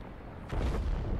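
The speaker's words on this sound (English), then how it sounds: "The frigate is about to explode." A frigate explodes in the space combat game Star Wars Squadrons, a sudden loud, deep boom that bursts in partway through and rolls on as a sustained rumble.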